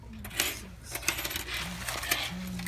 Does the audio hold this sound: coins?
yes